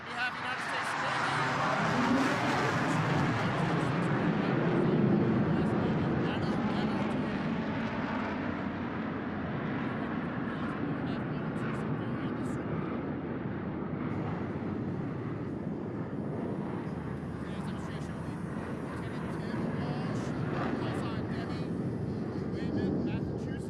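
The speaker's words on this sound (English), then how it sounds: "Flying the F-18 to the edge of his operating envelope." An F-18 fighter jet at an air show gives a loud, sustained roar that swells and slowly fades as it passes. Wind buffets the microphone, and a commentator talks over the engine noise.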